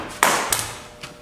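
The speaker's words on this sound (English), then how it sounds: "The halligan is used to tap on the K-tool" Metal-on-metal taps of a halligan bar striking a K-tool seated on a commercial door's lock cylinder during forcible-entry training: three sharp, ringing hits spaced about a third of a second apart, close and loud.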